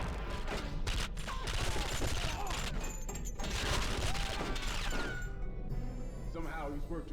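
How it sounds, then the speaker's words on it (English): A grenade blast and gunfire in the 007 Nightfire video game, a dense, continuous clatter of shots and impacts under game music and voices throughout. "Just dumbass threw a grenade."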